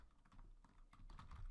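Computer keyboard typing heard as a short, soft flurry of close keystroke taps over a low background hum, with no talking.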